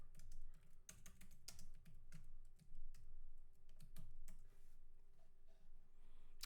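Rapid clattering keystrokes on a computer keyboard, close and fairly quiet, in uneven bursts with a few sharper clicks.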